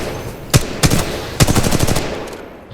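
Weapon fire on a Titanfall 2 training course: a few sharp, loud shots, then a faster burst of closely spaced rounds that trails off, with no voices.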